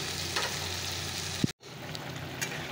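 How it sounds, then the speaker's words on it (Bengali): Spices crackle and sizzle as they hit hot oil in a wok-style kadai for a Bengali fish curry, a steady close frying hiss with a brief sharp pop and a momentary cut-out midway. "মশলাটা করে নিয়েছি, কড়াই তেলও দিয়ে দিয়েছি। তো চলো ফোড়ন দিয়ে দেবো।"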